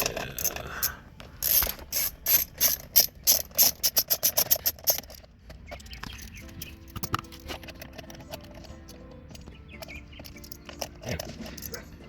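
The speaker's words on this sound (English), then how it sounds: "I'm gonna take this little 7mm nut off" Close ratchet clicking as a small 7mm nut is worked loose, a quick burst of rapid clicks over the first few seconds, followed by quieter handling and fiddling noises.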